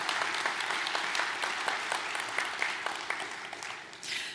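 An audience at the Verona Eurasian Economic Forum in Ras Al Khaimah claps in a dense, sustained round of applause that tapers near the end, with no voices on top.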